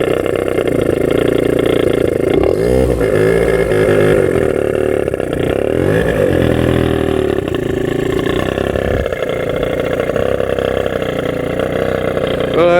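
A scooter engine with a taped, modified exhaust revs loudly and continuously up close, its rough, buzzing note rising and falling throughout.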